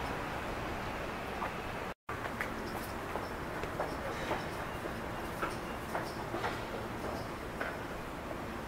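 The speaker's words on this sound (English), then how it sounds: "Gotta hurry up, catch this train." A subway train rolls along the track, a steady close rumble with faint rhythmic ticking and clacking of the cars, broken by a brief dropout early on.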